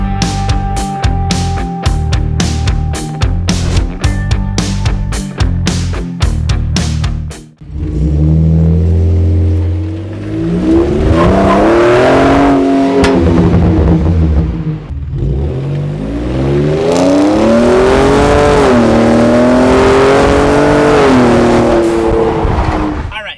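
A Ford Raptor's engine revs hard in repeated rising and falling sweeps, with a sharp rush of air from its blow-off valve, loud and close throughout with no talking.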